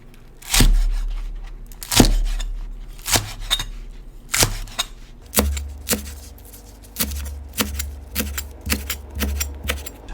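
Green onions are chopped with a knife on a board, a series of crisp, close thuds that start spaced out and grow faster and more regular.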